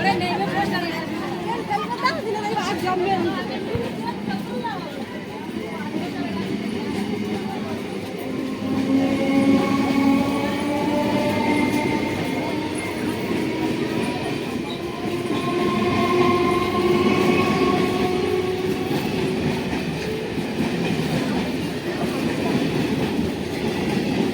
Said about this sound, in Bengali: ফাইনালি ভিউয়ার্স ট্রেন কিন্তু প্ল্যাটফর্ম থেকে বেরিয়ে গেল